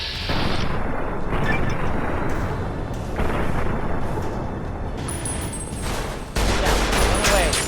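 Survivalist rifle gunfire in Fallout New Vegas during the battle for Hoover Dam, a loud barrage of overlapping shots and booms with brief lulls, a voice talking over the combat.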